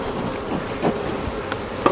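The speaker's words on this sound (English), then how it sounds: "we wanted all the forager bees to be here, because they're the angry old bees" Honey bees buzz steadily around an open hive, forager bees stirred up late in the day, a continuous close drone with a few louder passes near the end.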